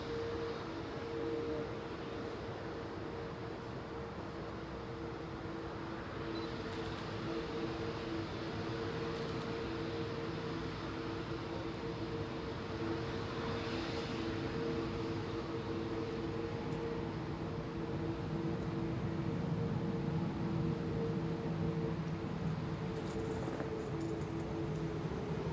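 A heavy airliner at Manchester Airport rumbles steadily as a low, broad roar that swells slightly toward the end, heard at a distance with no voices over it.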